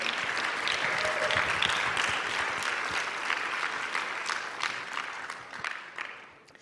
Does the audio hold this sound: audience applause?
yes